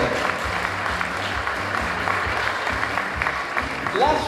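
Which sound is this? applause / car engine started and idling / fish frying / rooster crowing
applause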